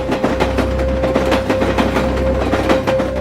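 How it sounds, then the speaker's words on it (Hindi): A train rolls past close by in a noisy industrial area, its wheels beating a steady clickety-clack rhythm over a loud low rumble and a sustained tonal whine. "ये रेल यहाँ से रोज गुजरती है,"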